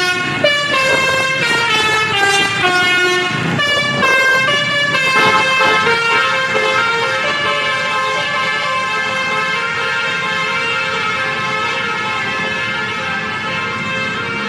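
Sumber Alam bus blaring a loud, tuneful multi-tone horn as it passes, with melodic horn notes shifting pitch over the first few seconds before settling into a sustained, steady drone.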